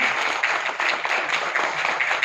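Audience applause welcoming performers on stage at a radio program announcement event, a steady dense wash of clapping at moderate level throughout.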